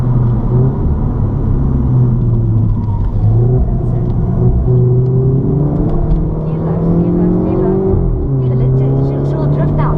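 Race car lapping Zwartkops track during a Supertrax session, a loud, continuous engine drone with shifting pitch as it revs and drifts through the line, heard from close by.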